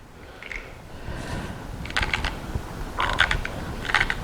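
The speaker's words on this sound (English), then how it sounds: "I've got my pepper grinder set on a medium grind, so you've got bigger chunks of pepper in it." A pepper grinder set to a medium grind cracks black pepper in short bursts of gritty ratcheting crunches, several quick twists with brief pauses between, close and fairly quiet.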